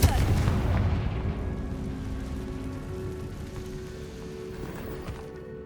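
A Confringo fire spell blast in the Hogwarts Legacy video game lands as a heavy boom with crackling, rain-like debris that slowly fades away.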